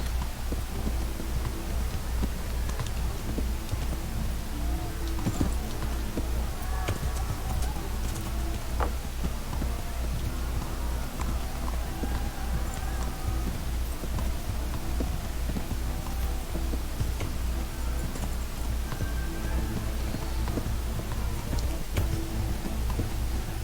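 A horse's hooves clip-clop in the medieval video game Kingdom Come, soft repeated footfalls over a low ambient hum and light ticks, steady and fairly faint throughout with no speech.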